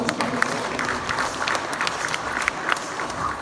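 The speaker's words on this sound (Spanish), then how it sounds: "Para ella un fuerte y caluroso aplauso." Audience at an official public ceremony applauding a guest, steady dense clapping from a crowd heard at moderate distance, continuing evenly throughout.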